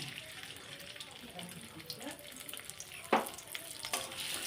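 Chopped ginger and onion fry in a pan for momo filling, a soft steady sizzle with occasional scraping, a sharper clink near the middle, no talk over it.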